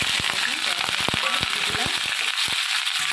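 Bottle gourd stems and potato tossed into hot oil in a kadai crackle and sizzle loudly, with dense rapid pops and spitting over a steady hiss, no one speaking.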